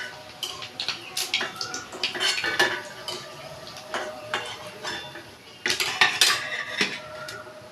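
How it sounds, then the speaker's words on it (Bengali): Fish roe fritters fry in a pan while utensils clatter and scrape against the metal, a steady run of close clinks and rattles over a faint bed of frying noise. "এইভাবেই এই করে আমি ভেজে নেব, সবগুলো ভেজে নেব।"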